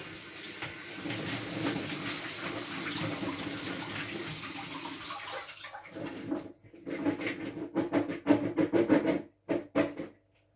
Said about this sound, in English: So I'm just going to quickly rinse those off with some cold water.